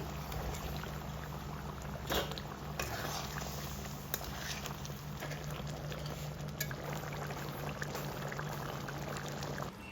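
Water poured into bubbling egg curry in a pan, a steady splashing pour over continuous boiling and simmering, with faint clinks of a utensil and a low hum in the background.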